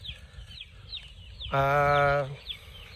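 Young roosters (stags) feeding outdoors give soft clucks and chirps over a low background, then one loud, harsh crow-like call rises for under a second before the quiet pecking sounds return.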